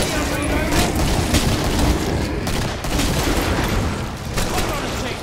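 Continuous gunfire and explosive booms from the Killing Floor video game, a dense, loud barrage with a grenade blast, sustained throughout with no pauses.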